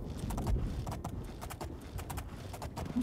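Horse hooves clip-clop steadily at a brisk rhythm while riding up a hill in the video game Oblivion, close and fairly loud over a soft ambient game background.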